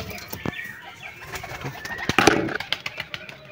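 A Madras pigeon at a Kolkata loft coos and flaps, with sharp wingbeat bursts and clicks, a dense flurry in the middle, moderately close.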